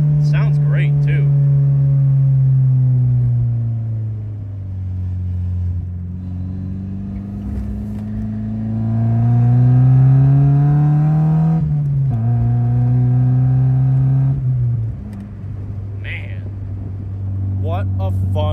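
A Mazda Miata NA engine fitted with a cold air intake drones as it accelerates, its pitch rising and falling through the gears in a steady, close, in-car hum.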